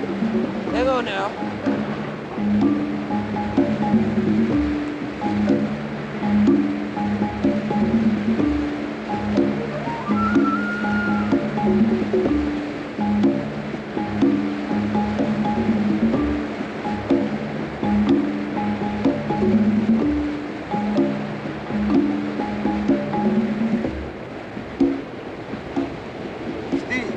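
White water rapids churn and surge around a boat in a constant, loud roar of rushing water and surf that runs on without a break.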